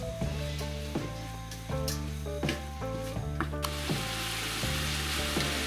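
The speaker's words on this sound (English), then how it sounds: "and pepper, and we're now going to brown it off" Ground meat browns in a frying pan with a steady hiss and sizzle, while a spatula scrapes and taps at a regular rhythm against the metal and a low hum runs beneath.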